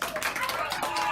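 A classroom of students gives a round of applause, a brief burst of dense clapping from a group with voices talking over it.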